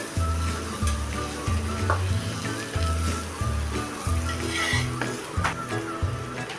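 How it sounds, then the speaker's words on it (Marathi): Mashed potato sautéed and stirred in a pan for a potato curry gives a steady close sizzle with scraping stirs, under a rhythmic music bed. "बटाटा पण आपण आता हा थोडा वेळ असा मॅश केलेला परतून घेऊया"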